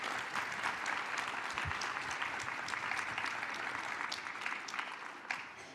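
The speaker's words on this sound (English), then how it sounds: "So please, another round of applause for the panel." Conference audience applauding a panel at the close of the event, steady dense clapping filling the room throughout with no talk over it.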